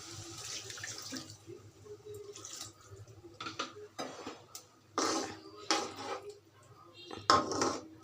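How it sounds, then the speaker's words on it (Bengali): Water is added to a pan of dried fish curry with potatoes, with running and splashing water mixed with clanks of pots and utensils, loud bursts over a quieter background. "এখন আমি সামান্য পানি দিয়ে দিব।"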